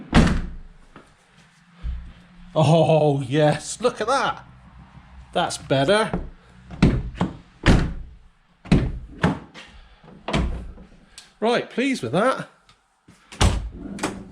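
Rear doors of a Vauxhall Vivaro van swung shut several times, each closing a solid, close thunk, with someone talking between the slams.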